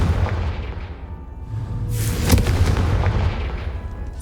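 A Confringo spell blast in the Hogwarts Legacy video game bursts in as a loud booming explosion with a sharp crack and rumbling decay over a low background rumble.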